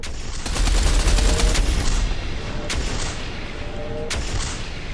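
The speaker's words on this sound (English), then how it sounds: "Fire all reserve torpedoes at once." Rapid volley of torpedo launches in the space combat game Everspace 2, a dense, loud salvo of overlapping blasts and booms in the first two seconds, followed by two sharper single bursts near the end over a rumbling low backdrop.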